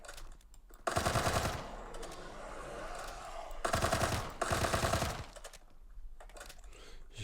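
Automatic gunfire in a Roblox shooting game, with two loud rapid bursts of about a second each and a shorter third burst, separated by quieter game noise.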